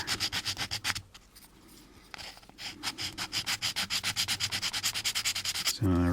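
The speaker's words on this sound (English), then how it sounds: "I'll just use the sandpaper here to get rid of this burr." Steady back-and-forth scraping of sandpaper removing a burr, with quick rhythmic strokes, a short pause, then more rapid rubbing close by.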